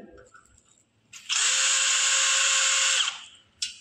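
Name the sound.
screwdriver driving screws into an aluminium window frame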